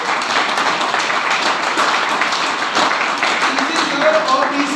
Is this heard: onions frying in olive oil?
no